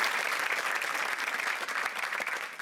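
A studio audience at a quiz show claps in a dense, steady burst of applause lasting a few seconds, close and loud, fading slightly at the end.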